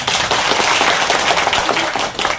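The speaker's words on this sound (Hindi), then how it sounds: "उनके जोरदार तालियां उनका बजाएं" A crowd at a public program bursts into dense, continuous applause, close and loud for a couple of seconds before thinning slightly at the end.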